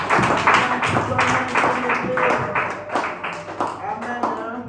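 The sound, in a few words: audience applauding at a church service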